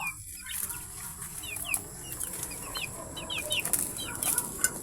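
A pet chicken, sheltered from rain and sun, clucks softly in a quiet outdoor spot, with several short chirpy calls spread across the stretch over faint background hiss.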